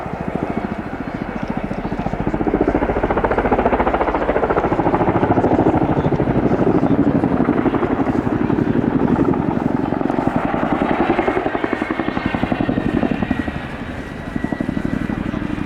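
A twin-rotor Chinook helicopter performs manoeuvres at an air show, its dense rotor thump and turbine roar loud and sustained throughout, with a commentator speaking over it.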